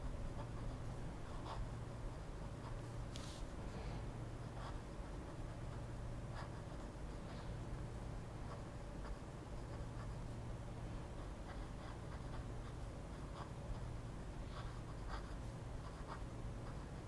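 A Pilot Petit 1 fountain pen with an extra fine nib scratches steadily across paper, soft close-up strokes with slight scratchiness continuing for the whole stretch without any talk.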